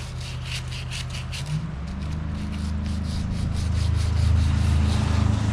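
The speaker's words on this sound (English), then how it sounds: "Then I will spray a little bit of WD-40 on it and start sanding." Steady close-up rubbing and scraping of sandpaper by hand on a cast motorcycle wheel sprayed with WD-40, continuous strokes growing slightly louder, with a low hum beneath.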